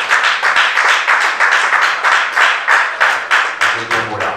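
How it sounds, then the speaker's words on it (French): Audience applause at a women's day Toastmasters event, loud sustained clapping from a crowd with rhythmic surges, near and steady throughout. "Merci de les applaudir très très très fort."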